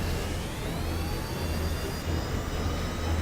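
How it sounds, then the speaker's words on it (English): Model planes at a flying competition final taking off, a steady close engine whine and rushing drone that holds level throughout. "Let's go ahead and get these planes into the air for the first round of the finals."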